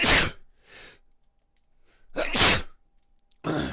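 Loud, close sneezes burst out in quick succession, a sharp pair at the start followed after a pause by another strong sneeze and the start of a fourth, with quiet breathing between.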